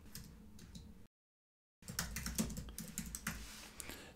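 Typing a poll question on a computer keyboard in Microsoft Teams, quick close clicking keystrokes in two short bursts split by a brief silent gap.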